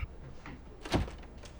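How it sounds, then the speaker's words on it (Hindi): A door being closed gives a single short, muffled thud in otherwise quiet surroundings. "दरवाजा बंद करो"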